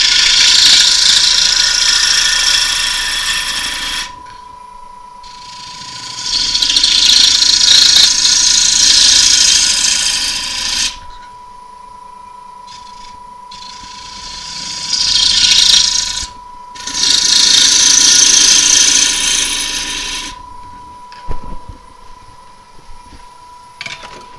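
A woodturning lathe cuts down a tenon on a rough piece of wood in repeated bursts of harsh, loud scraping separated by quieter stretches where the lathe's steady motor whine continues alone.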